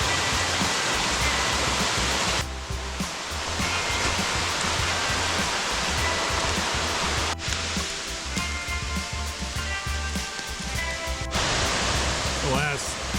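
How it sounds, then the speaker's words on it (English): A river in the Great Smoky Mountains rushes beside a hiking trail in steady, loud, broadband flow, with a person's voice briefly audible over the water. "The last 3-4 miles of the hike, we've been walking next to this river."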